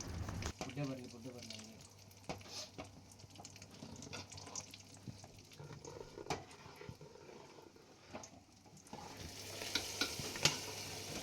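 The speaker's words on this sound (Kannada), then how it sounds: "ತುಪ್ಪದಲ್ಲಿ ದ್ರಾಕ್ಷಿ ಮತ್ತು ಗೋಡಂಬಿ ಬರುತ್ತಲ್ಲ ಅದನ್ನು ಹುರ್ಕೊಬೇಕು." Raisins and cashews frying in hot ghee give a steady sizzle with frequent spoon scrapes and clinks against the pan, and voices talk over it throughout.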